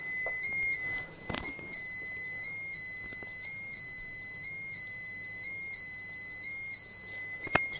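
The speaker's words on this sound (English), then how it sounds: "You see here, alarm is triggered." A triggered Pyronix Euro-46 alarm panel sounds a steady, piercing electronic tone that holds two pitches and steps slightly up and down, continuous and close, with a few faint knocks beneath and no talk.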